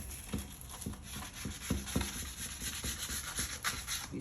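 A curb-rashed wheel rim is sanded by hand in a series of rhythmic rubbing strokes, close and moderately loud, over a steady background hum.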